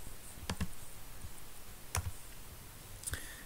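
Quiet computer mouse clicks while working in FreeCAD CAD software, a few short double clicks spread over a few seconds, close and faint against a soft background hiss.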